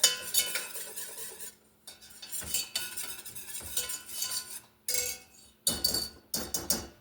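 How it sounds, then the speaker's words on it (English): A spoon stirs half a teaspoon of dried mustard into baked macaroni and cheese, with close, intermittent scraping and clinking against the dish in short bursts and brief pauses, no talking. "Stir that in there."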